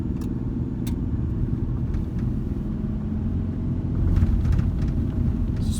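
A 2008 Ford Ranger 2WD with a five-speed manual gearbox pulling uphill in second gear: a steady, loud low engine drone and road rumble from inside the cab, swelling slightly toward the end.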